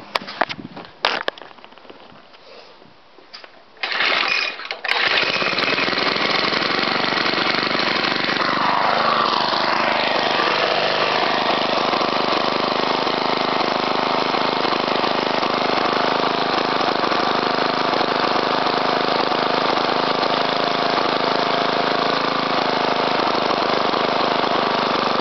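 A Suffolk Punch mower engine with freshly done valves, adjusted magneto and new spark plug sputters through a few uneven attempts, then catches and settles into a steady, close, continuous idle.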